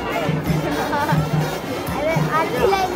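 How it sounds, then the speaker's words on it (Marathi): Dense chatter from a crowded temple queue, overlapping voices murmuring and calling out in a steady, busy babble. "खूपच गर्दी आहे."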